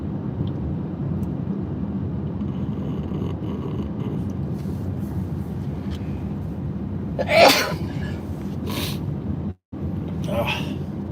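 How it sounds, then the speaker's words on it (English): Person sneezing inside a car, a couple of sharp bursts late on, over a steady engine and road drone. "I just came in the car and I started sneezing away"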